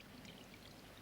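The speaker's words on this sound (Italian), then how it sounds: "Senti la nostra fontana." Water flowing steadily from a fountain, a faint, even splashing pour with no pauses or voices in a short clip.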